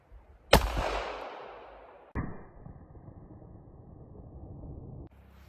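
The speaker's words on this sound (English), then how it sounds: "I'm going to go and shoot it with the first one, which is going to be 9mm" Two sharp gunshots from a 9mm CZ pistol strike an armor plate fitted on a dummy, the first blast loud with a long decaying tail and the second crack more muted about a second and a half later, no talk.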